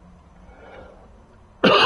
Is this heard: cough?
yes